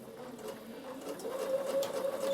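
Bernina sewing machine stitching a summer peak cap, a close motor hum building into steady rapid needle whirring that grows slightly louder toward the end.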